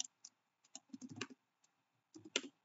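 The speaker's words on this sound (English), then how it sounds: "I'm typing something." Typing on a computer keyboard running Manjaro Linux, close and quiet, with irregular bursts of key clicks separated by short pauses.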